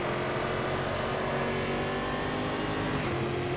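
A 2019 Stock Car race engine in the Automobilista sim holds a steady, loud, buzzing drone at high revs, continuous throughout with no pauses or voices.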